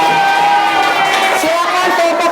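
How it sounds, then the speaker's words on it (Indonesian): Classmates clapping and cheering for a student in a primary school coding lesson, a short burst of hand claps mixed with children's shouts and a voice carrying over the noise. "Tepuk tangan untuk Agna."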